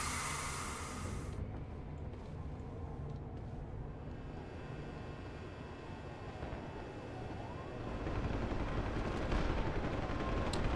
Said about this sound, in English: Oh, gunfire! SWAT must be moving in.